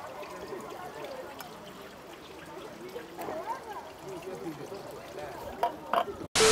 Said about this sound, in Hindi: ड्रैगन के मुंह से पानी आ रहा है